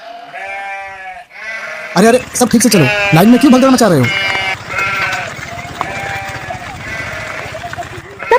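A flock of sheep bleats in quavering cries, a few at first and then a busier chorus driven by a shepherd, with a voice calling out over the animals.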